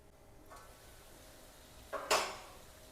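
A metal lid clinks down onto a pan of aubergine and potato curry in a home kitchen, one short clatter followed by a brief ringing tail over quiet background.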